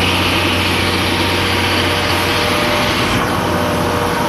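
A loud, high-pitched locomotive engine of the SL Taiju train drones steadily up close at Shimo-Imaichi, a constant whining hum over a low rumble, with no talking.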